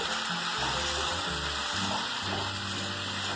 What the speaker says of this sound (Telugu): ఉల్లిపాయలు సగం వేగాక జీడిపప్పు, టమోటాలు వేసి బాగా వేయించుకోవాలి.